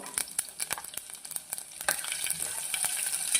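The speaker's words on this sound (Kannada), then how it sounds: "ಈ ಟೈಮಲ್ಲಿ ಇದಕ್ಕೆ ನಾವು ಬೆಳ್ಳುಳ್ಳಿನ ಆ್ಯಡ್ ಮಾಡ್ಕೊಳ್ಳೋಣ" Garlic and ginger fry in oil for masala oats, a close, continuous sizzle broken by quick scraping stirs of a spoon against the pan, with a brief louder flare near the middle and no talking.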